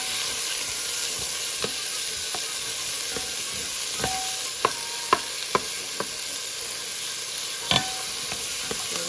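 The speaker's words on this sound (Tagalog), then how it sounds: "Stir this with ginger." Tomato and ginger sizzle steadily in a pot for beef ribs soup, with a broad frying hiss and scattered sharp clicks and scrapes of a spoon stirring, clearest in a cluster near the middle.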